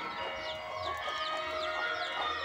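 Free-range village chickens, a hen clucking softly near her chicks, whose high, rising peeps come again and again over a low murmur of farmyard sound.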